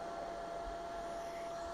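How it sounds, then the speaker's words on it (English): A small dollar-store hair dryer blows air through a piece of pellet stove pipe in a steady, even roar with a constant high motor whine throughout. "hair dryer from the dollar store and a piece of pellet stove pipe"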